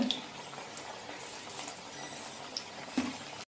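Jackfruit-seed vadas sizzle in hot oil with a quiet, steady bubbling hiss and a few small pops and clicks, faint and continuous before cutting off abruptly.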